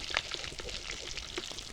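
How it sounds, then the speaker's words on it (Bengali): Fish frying in hot oil, a second batch in the pan, gives a steady close crackle and sizzle with brief louder pops throughout. "এই যে দেখো সেকেন্ড রাউন্ডের ভাজাও হয়ে গেল"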